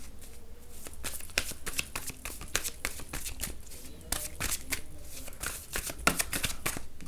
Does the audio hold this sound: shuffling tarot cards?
yes